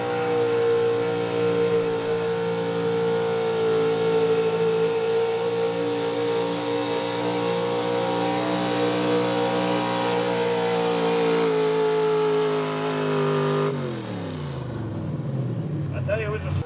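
A square body Chevy gas 4x4 pulling truck roars at sustained high revs under load during a truck pull, loud and steady for a long stretch before the engine abruptly drops off and winds down.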